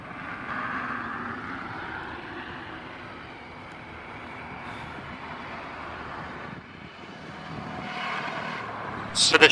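A fixed-wing airliner lands on runway 11 and rolls out, a long steady engine roar with a broad rumble that dips midway and rises again toward the end.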